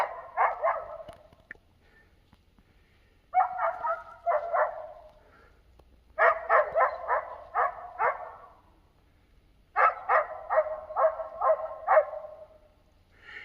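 Dogs in a Himalayan jungle bark at a langur up a tree, in four clustered bursts of repeated sharp barks separated by short pauses, fairly close and clear against a quiet background.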